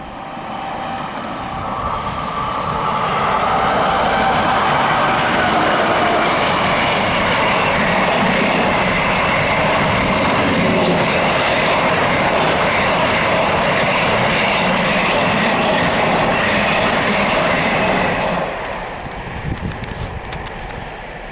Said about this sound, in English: And that Avanti West Coast Pendolino is going to Manchester Piccadilly.